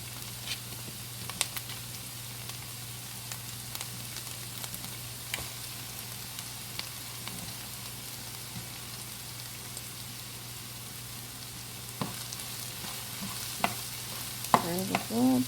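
Mushrooms cook in a pan alongside softened onions, a faint, steady crackle and sizzle with occasional scattered ticks and a scrape or two near the end, heard alone without any talk.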